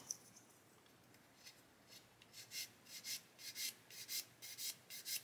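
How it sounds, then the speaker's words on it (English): Quiet rhythmic scratching of sandpaper against a small plastic model part, soft strokes repeating steadily and growing a little firmer, close up with no talk. "I'm sanding away and it's removing all that marker from there"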